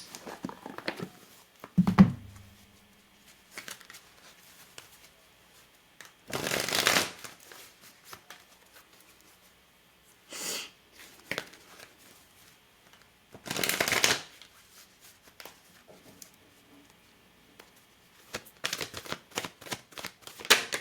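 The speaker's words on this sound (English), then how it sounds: "Let me pull an oracle card." Oracle cards being shuffled in several separate bursts of quick papery riffling, close and fairly loud, with quiet pauses between them and no talking.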